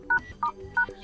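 Keypad tones from a Redmi Note 12 Pro+ phone while dialing a secret code, three short distinct beeps in quick even succession, close and clear with a quiet background.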